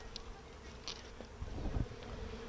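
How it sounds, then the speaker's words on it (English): Low honeybee buzzing drones through a quiet outdoor scene, with a few soft clicks and a brief louder hum near the end. "You always want to put a little smoke on your bees before you mess with them."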